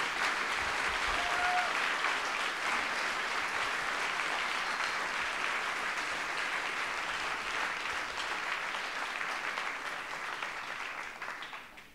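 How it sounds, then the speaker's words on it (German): Sustained audience applause for the speakers at a Webmontag meetup in Darmstadt, a steady, dense roomful of clapping that holds for many seconds before slowly fading toward the end. "Einen großen Applaus bitte nochmal für alle, die hier oben waren."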